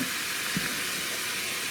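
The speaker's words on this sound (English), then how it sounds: "I'm going to give everything just a quick mix. I'm going to break up the ground beef." Ground beef browns in an Instant Pot with a dense, continuous sizzle and steady hiss through the whole short stretch, broken by a few faint low bumps as the meat is stirred and broken up.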